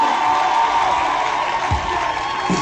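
A church congregation cheers and claps in praise of God, a dense, continuous crowd roar of voices and applause that stays loud and steady throughout.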